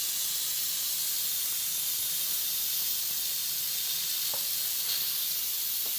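An Instant Pot vents steam while making butternut squash soup, a loud, unbroken rushing hiss that stays at the same level throughout, with no talking over it.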